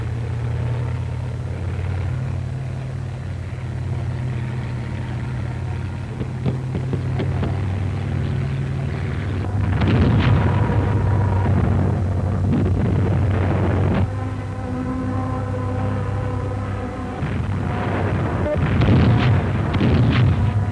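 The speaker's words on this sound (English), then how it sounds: "And planes have radios to whistle up bombers on just such a target. And here they are, sooner than usual." Bomber aircraft attack a transport convoy in a wood: a loud, continuous low engine drone with heavy booming explosions and rumbling blasts, mostly toward the middle and end.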